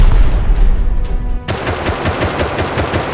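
Rapid automatic gunfire in the survival video game Rust, loud and close, crackling in a fast burst that follows a heavy low rumble, with no voices.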